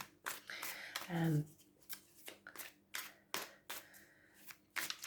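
Quick, crisp bursts of tarot card shuffling riffle through the quiet room, irregular and close, with a brief voiced murmur near the start.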